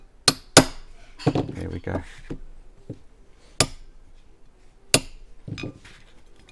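Sharp hammer blows striking a Tanfoglio pistol part while a competition trigger return spring is fitted. Several loud, isolated metallic knocks are spread irregularly, with a few softer taps and a brief spoken remark between them.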